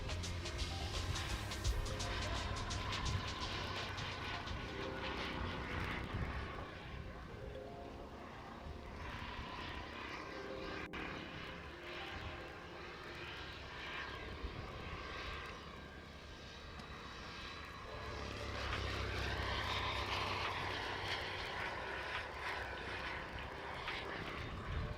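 An aircraft flies past at a wing air show, a continuous engine drone heard from a distance, swelling and fading gently over the span with a steady low rumble underneath.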